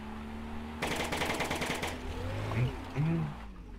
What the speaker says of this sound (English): Yeah, this also has a machine gun.